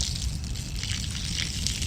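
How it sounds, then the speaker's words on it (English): Niagara Falls pours over a 200-foot drop into the basin, making a steady, dense, full-bodied roar of rushing water that holds unbroken throughout. "it's a 200-foot drop from the top of Niagara Falls to the basin, and there is just straight up water falling"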